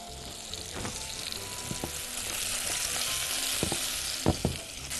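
Kofta frying in a pan while it is stirred, giving a steady sizzle with a few sharp scraping knocks from the spoon. No one speaks.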